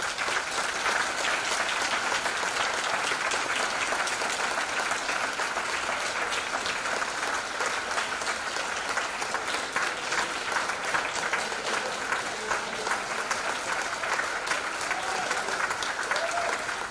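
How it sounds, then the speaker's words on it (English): An indoor crowd at a union retirement celebration claps for the retirees, a dense, steady round of applause that continues at an even level from start to finish. "give one more round of applause to all of our retirees"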